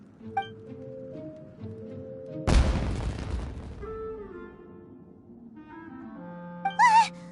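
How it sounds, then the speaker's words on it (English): Fireworks in the video game Genshin Impact burst with one loud, sudden explosive boom that rumbles and fades over a few seconds, set between soft tonal game music notes and a short chime near the end. "It sounded like fireworks."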